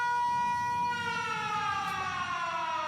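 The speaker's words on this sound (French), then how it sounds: "Sirène, sirène, sirène." A police car siren in a roleplay video game wails continuously and slowly sweeps downward in pitch. The tone is clear and fairly loud, with no voices over it.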